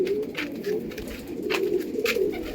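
Kalanka pigeons coo softly and repeatedly, low murmuring calls with a few light rustles and taps around them.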